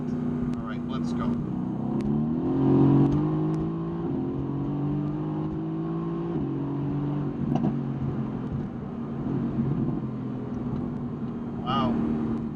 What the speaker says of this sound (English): I'm going to floor it once more